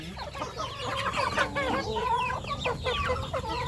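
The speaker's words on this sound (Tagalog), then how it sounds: "Yung mga inahin natin yan oh." Farm hens cluck and chatter close by, a busy overlapping run of short calls from several birds, with no talk.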